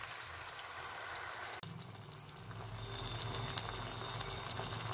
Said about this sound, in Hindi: अब थोड़ा सा हम पानी ऐड कर रहे हैं इसमें।